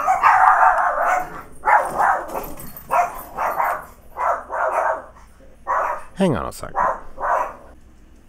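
A dog barks repeatedly indoors, a string of loud, close, evenly spaced woofs with short gaps between them, while someone briefly speaks over the start.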